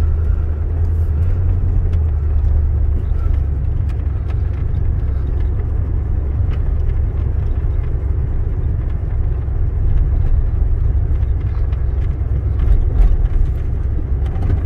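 A red 1992 Ford F-150 XLT long-bed pickup driving along a neighborhood road, with a steady low engine rumble and road noise heard from inside the cab, continuous and fairly loud.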